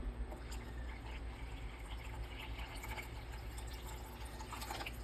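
Water is poured into a pot for coxinha dough, a steady close trickling and filling sound with a low constant hum underneath.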